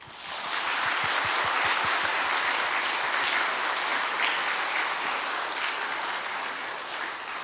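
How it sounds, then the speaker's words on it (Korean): A church congregation claps warmly during a Korean worship service, a steady, dense wash of hands that holds for the whole stretch and eases slightly toward the end, with no speech over it. "그 어른들을 위해서도 사랑의 박수."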